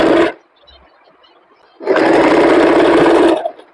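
A sewing machine stitches blouse fabric for a four-tuck belt blouse, running in a short loud burst, pausing briefly, then running again for a longer steady stretch. The motor whir is close, with no voices.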